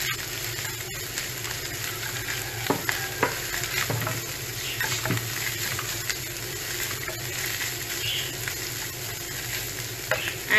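Onions frying in a pan for a bread plait stuffing, a soft, steady background sizzle with occasional light stirring taps and clicks, fairly quiet and without talking.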